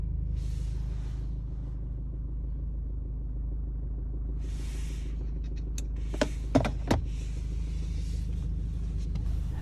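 A 2020 BMW X3 engine cranks and starts after an emergency start, settling into a steady low idle rumble with a few sharp clicks mid-way, heard close up.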